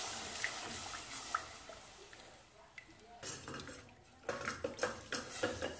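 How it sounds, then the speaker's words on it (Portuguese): A spoon stirs milk in a metal pot for a broccoli gratin sauce, giving soft intermittent scrapes and clinks against the pan, quiet and close with a faint background hum. "Sempre mexendo muito bem."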